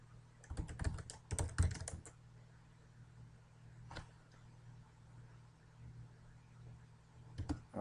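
Bursts of computer keyboard keystrokes as a password is entered, a dense flurry of taps at the start, then a lone click and a few more near the end, close and fairly quiet.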